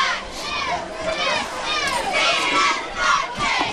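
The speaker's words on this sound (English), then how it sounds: "I'd say we got a pretty decent crowd here" Dense crowd noise at a high school football game, a sustained wash of children's shouts, chatter and cheering from many voices, loud and continuous throughout.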